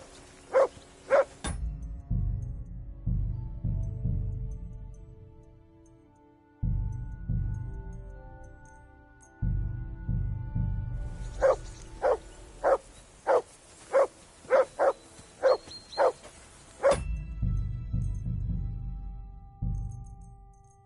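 A dog barking in the medieval video game Kingdom Come Deliverance 2, with a run of loud, close, evenly spaced barks over a low ambient game rumble, plus two barks near the start.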